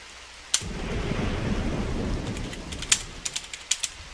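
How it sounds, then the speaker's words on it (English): Stormy weather in the pixel horror adventure game Trilby's Notes: steady rain hiss with a sharp crack of thunder near the start, then a cluster of short, loud thunder snaps and rumbles toward the end. "Storm continued outside."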